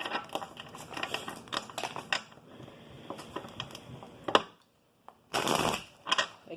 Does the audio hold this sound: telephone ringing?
no